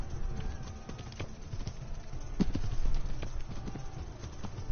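Horse hooves clip-clopping at a steady walking rhythm in Kingdom Come: Deliverance, a run of close, clear hoof strikes over low ambient noise.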